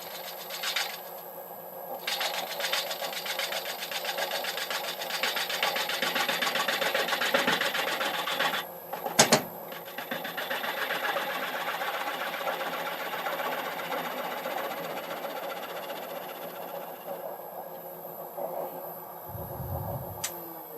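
A woodturning lathe cuts with a small ball gouge. A continuous whirring, rattling chatter holds steady for most of the stretch, with a brief sharp knock near the middle and a quieter pause toward the end.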